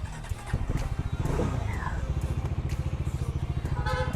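A Bajaj Dominar 400 motorcycle pulls away with a close, rhythmic, pulsing thump as it rides off under a rider's speech.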